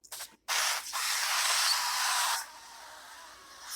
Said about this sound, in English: spray just a thin layer of oil onto the tops of these flour tortillas